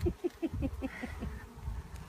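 Honey bees at an open, growing hive, a soft close buzz of wings droning in low pulses with a faint higher hum, quiet and unaccompanied by talk.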